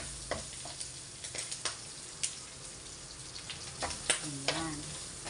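Garlic frying in a hot wok gives a close, steady crackling sizzle with scattered sharp pops, and a voice briefly cuts in near the end.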